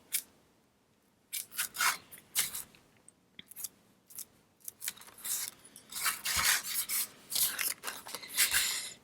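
A paintbrush feathers out paint on a surface, giving soft, irregular bristle-rubbing strokes that come in bursts of varying length, fairly close and quiet, with no talking.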